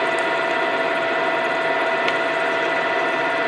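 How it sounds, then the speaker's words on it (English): A Monarch Model K lathe drills with a half-inch drill at 505 RPM, a steady whirring machine hum with a high tonal whine and a faint cutting hiss throughout. "We're running at 505 RPMs on a 1/2 inch drill."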